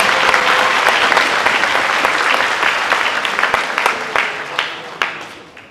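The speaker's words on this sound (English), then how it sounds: "Give them one more round of applause." Full-hall applause follows a high school spring band and orchestra concert, loud and sustained at first, then thinning gradually into scattered individual claps near the end.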